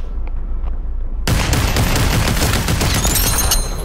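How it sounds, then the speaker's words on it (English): Gunfire in the VR battle-royale video game Population: ONE: a quiet lead-in is suddenly cut off by a loud, dense stretch of rapid shots that keeps going to the end. "Whoa, somebody's shooting at me."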